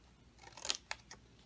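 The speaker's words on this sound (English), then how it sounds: "Now we're going to cut the little flaps just so it doesn't give the envelope bulk." Scissors snipping small flaps off a paper card envelope, three quick crisp cuts in close succession, faint and close, with no talking.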